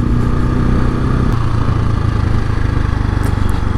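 A KTM 690 SMC-R single-cylinder motorcycle engine runs steadily close by, a constant low throbbing drone that holds loud for the whole stretch with no voices.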